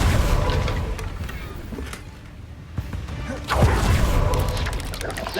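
A Confringo fire spell from the Hogwarts Legacy video game goes off with booming, crashing blasts. They land in two bursts around mixed game noise, the second heavier and louder, with no voice over them.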